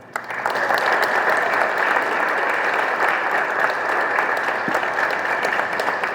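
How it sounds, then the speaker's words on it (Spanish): An audience applauds to welcome a speaker at a discussion on the Mexican Revolution in Durango. The clapping starts abruptly and holds as a strong, even roar of many hands for several seconds. "Recibamos con un fuerte aplauso al profesor Esbardo Carreño Díaz"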